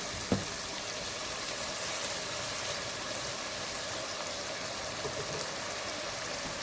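Masala with yogurt frying in a pot for boneless chicken handi, a steady low sizzle throughout with a single light tap of the spoon near the start.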